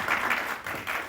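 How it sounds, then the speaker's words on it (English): Audience cheers and claps at a live ghost-story show as a special guest is brought out, a brief broadband wash of applause swelling in two waves. "Y'all cheer real loud for her."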